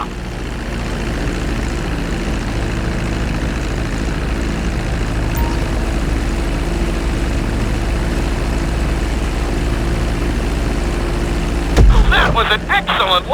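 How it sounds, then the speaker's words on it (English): A propeller plane taxis along a runway in GTA 5, its engine droning steadily and fairly loud throughout, ending with a short burst of clattering noise near the end. "Now let's get the plane off the runway."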